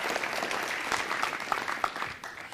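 Applause from an audience at a city council meeting, honoring a Shaolin kung fu school's Chinese New Year performance, sustained dense clapping with a few sharper claps, fairly close and steady throughout.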